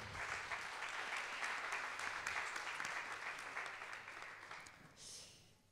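Warm audience applause in a conference hall after organisers are thanked at a geopolitics event, a dense steady wash of many hands that holds for several seconds, then thins and tapers off near the end.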